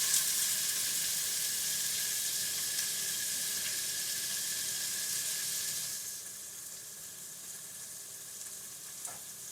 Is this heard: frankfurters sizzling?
yes